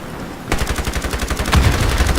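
Rapid bursts of automatic gunfire from the online shooter game IronSight, starting abruptly after a brief quiet and continuing as a dense, steady rattle of shots that grows heavier and louder toward the end.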